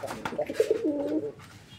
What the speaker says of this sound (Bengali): আলহামদুলিল্লাহ প্রচুর পরিমাণে ডাকাডাকি করতেছে এই মুহূর্তে, আপনারা দেখতে পাচ্ছেন ভরপুর ডাকের একটা নর।